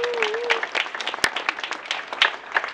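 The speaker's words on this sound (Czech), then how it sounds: "Opět kurátorky Emu a Markétu, opět potřebují potlesk samozřejmě." Audience applause at an exhibition opening in Humpolec, a moderate, fairly sparse patter of hand claps from a small gathering, with one sharp louder clap standing out midway.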